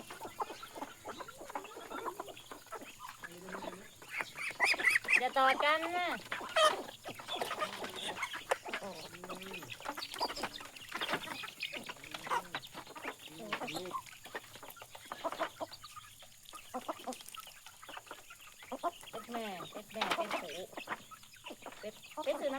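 Chickens cluck busily nearby in short, overlapping bursts, with a person speaking Thai intermittently over the flock on a rural farm.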